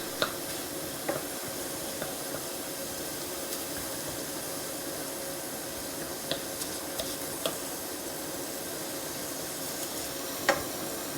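Sausage cooking in a pan, with a steady, even sizzle and hiss throughout and a few faint ticks and clicks scattered over it.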